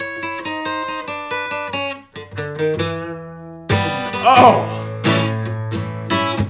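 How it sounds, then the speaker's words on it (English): An acoustic guitar plays a blues turnaround lick in A, bright plucked notes descending in quick succession before ringing chords, with a voice briefly exclaiming partway through. "a nasty acoustic blues turnaround to let the people know that we mean business"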